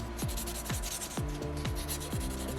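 Soapstone being sanded by hand with sandpaper while carving a small Moai figure: a steady scratchy rubbing with repeated strokes, several distinct passes roughly every half second, close and fairly loud with no talking.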